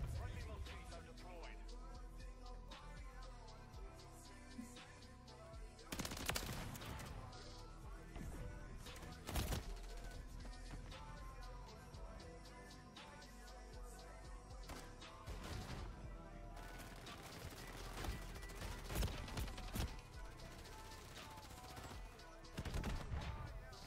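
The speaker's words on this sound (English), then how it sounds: "I had three kids on me shooting me right there" Gunfire in the video game Call of Duty MW3, bursts of rapid shots and sharp crashes over a busy, loud game soundscape, with a voice talking intermittently over the action.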